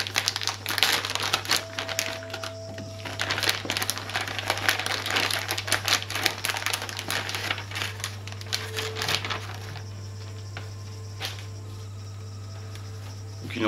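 Unpacking a PAT filter and aquarium exhauster from their packaging, with close crinkling and rustling of plastic wrap and small handling clicks through the first two-thirds, then quieter fiddling over a steady low hum.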